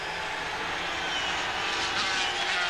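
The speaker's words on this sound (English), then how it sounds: "Then he accelerates out towards the chicane." A green Kawasaki 250cc racing motorcycle at the 1982 Dutch Grand Prix accelerates out of a chicane, a loud, sustained high-pitched engine howl rising steadily without pause.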